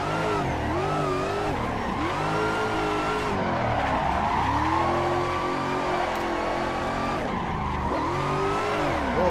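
A Toyota GT86 in the Assetto Corsa racing game skids under handbrake at Atron Circuit: loud, sustained tire squeal wavering in pitch over a constant engine drone.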